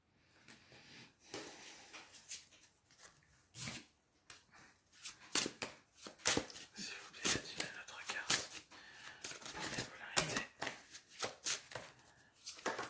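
Playing cards shuffled and handled at close range during a card reading, soft riffles and slaps in quick irregular bursts, with a person speaking quietly alongside.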